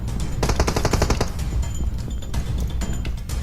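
Automatic gunfire in the mobile game PUBG Mobile rattles out in rapid bursts, loud and close, then thins into a few sparser shots toward the end.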